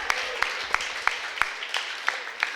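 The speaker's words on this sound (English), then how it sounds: "Please give him another round of applause." A crowd at a swim meet reception applauds, giving a steady wash of clapping with sharp, regular louder claps standing out on top.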